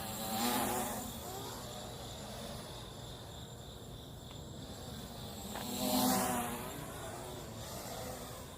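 An MJX Bugs 3 quadcopter drone flies with a buzzing, insect-like propeller whine that rises and falls as it passes closer twice, heard fairly faintly over a steady outdoor background.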